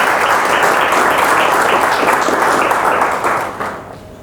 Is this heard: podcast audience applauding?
yes